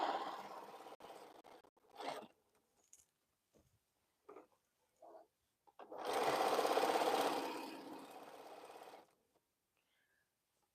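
A Bernina sewing machine stitches a quilt in short bursts, then one longer sustained run of rapid needle chatter, close and moderately loud with quiet gaps and small handling clicks between.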